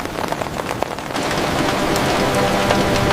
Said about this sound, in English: My favorite sound is the sound of rain falling outside my window.